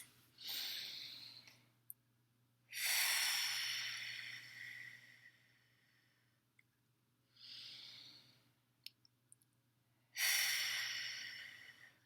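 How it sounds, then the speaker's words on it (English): Three long, deep breaths are heard during a calming exercise, each a slow breathy inhale or exhale rising and fading, close and clear, separated by near-silent pauses. "We're going to take 3 really deep breaths."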